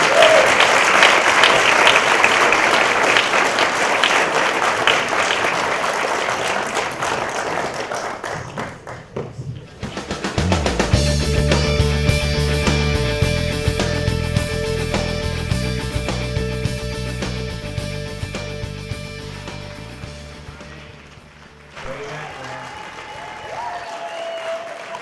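Audience applause at a film festival Q&A showcase, a long burst of clapping from a seated crowd that fades out, followed by a stretch of music and voices afterward.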